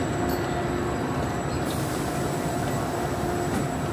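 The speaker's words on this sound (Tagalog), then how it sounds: "This is our train." A train stands or rolls at a station platform in Milan, Italy, giving a continuous dense rumble with faint steady tonal hums and a brief hiss partway through, loud and close, with no talking.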